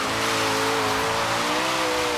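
A Rimac Regera hypercar drifting in Forza Horizon 3, a loud sustained engine whine with a rising tonal drone and broadband tire noise, steady and close with no pauses.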